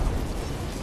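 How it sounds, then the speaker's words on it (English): A magic explosion in The Witcher 3: Wild Hunt, a deep, rumbling blast that fills the moment, a dense low roar holding steady for under a second with no voices. "A magic explosion of some sort."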